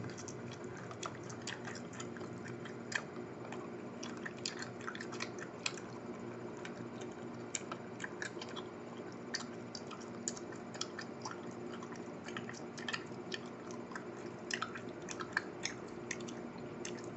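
Gum is chewed fast with the mouth open, giving a steady stream of close, wet smacks and clicks for the whole stretch, quiet and intimate with no talking.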